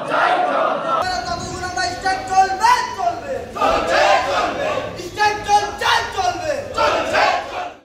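A crowd of protesting temporary hospital workers chants and shouts demands for unpaid wages outside the trauma care building of Malda Medical College Hospital, with loud overlapping voices rising in repeated bursts.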